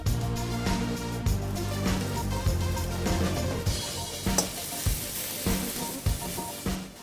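Peppers, carrot and cabbage fry in a pan for spicy veg Hakka noodles, giving a steady close sizzle over a low hum, with repeated stirring and scraping knocks along the way. No one speaks.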